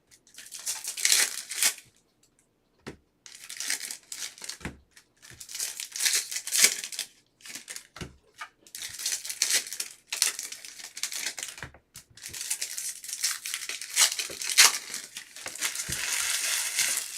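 Foil basketball card packs, Topps Finest 2024/25, being torn open one after another, loud crinkling and ripping in repeated bursts with short pauses, close up and alone.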